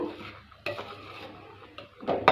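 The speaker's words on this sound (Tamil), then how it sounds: "இந்த ஸ்டேஜில் கொஞ்சம் நல்லா வந்து கைவிடாமல் கலந்துக்கிட்டே இருங்க" A spoon stirring a thickening milk mixture in a pan while cooking an egg sweet, with soft scraping strokes and a few sharper clinks against the pan, close and fairly quiet.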